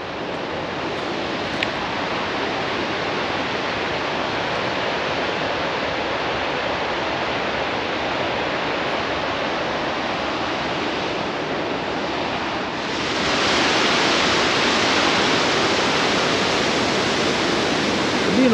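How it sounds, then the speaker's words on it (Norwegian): A river in Jølster, Norway rushes past as a loud, unbroken roar of churning water that swells slightly louder partway through, with no speech. "Nydelig elv."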